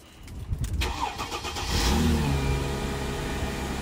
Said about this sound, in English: So, shall we see if she fires up?